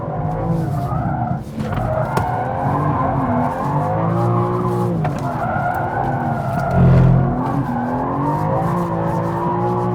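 A BMW M2 drifts on a race track through a pendulum maneuver, its tires squealing in long wavering screeches while the engine revs rise and dip underneath, loud and close.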